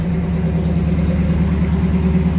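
A 1986 Chevrolet K20 4x4 truck with true dual exhaust runs at a steady idle, a constant low, even rumble heard close up without variation.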